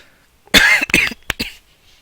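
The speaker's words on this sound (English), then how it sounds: "I didn't mean to start coughing on stream." A few raspy coughs up close, loud and rough, bursting out in a short cluster before fading to quiet.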